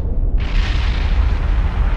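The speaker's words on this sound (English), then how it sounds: "we have just seen Soryu having a magazine explosion" The magazine of the aircraft carrier Soryu explodes in a loud, deep boom that bursts in and rumbles on steadily as a heavy, sustained roar.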